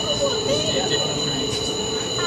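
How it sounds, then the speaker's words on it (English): Thameslink train running on rails close by in London, with a steady rumble and high metallic wheel squeal throughout. "There was a train right there."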